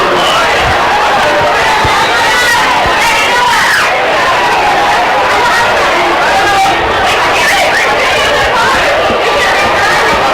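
Loud, sustained crowd noise fills a high school varsity football stadium during Omaha Central Eagles versus Papillion La Vista Monarchs, a dense roar of disapproval and booing over a referee's call, with scattered shouts and chatter throughout.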